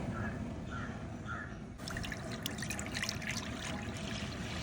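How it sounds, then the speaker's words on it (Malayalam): Packet milk pours into a pan on a gas stove for palada payasam, a steady faint liquid trickle that grows fuller and splashier partway through. "പാലൊഴിച്ച് കൊടുക്കാം."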